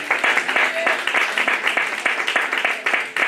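A church congregation breaks into loud, sustained clapping in praise of Jesus Christ, dense rhythmic applause filling the room with voices mixed underneath.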